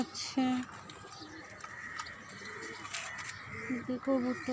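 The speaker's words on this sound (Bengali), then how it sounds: "এদিকে কবুতর" Pigeons coo softly on a rooftop garden among vegetables and other birds, with a few short calls heard under a person speaking nearby.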